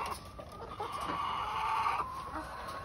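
Chickens cluck and murmur nearby, one suffering a prolapse, a continuous, slightly raspy chorus of fowl sounds with no voices.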